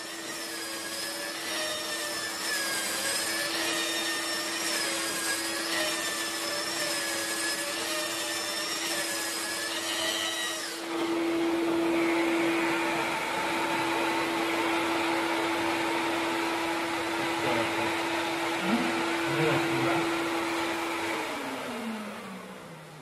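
A DLT 7232 sander runs steadily with vacuum extraction, a loud, continuous whine with a strong tonal hum that shifts partway through as the load changes, then winds down near the end. No one speaks.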